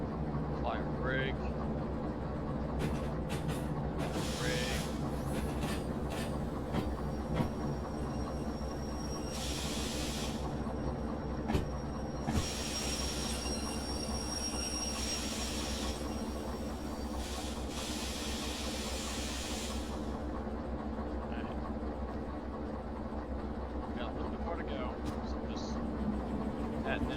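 A locomotive in the Derail Valley train simulator game rumbles with a steady low drone while bursts of brake air hiss come and go; someone talks over it throughout.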